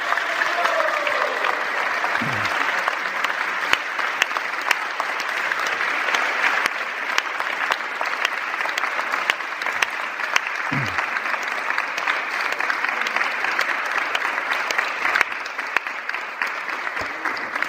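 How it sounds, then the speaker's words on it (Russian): An audience at a lecture breaks into sustained, even applause that continues for the full length, steady and fairly loud with no talking over it. "So let's give her parents a big round of applause"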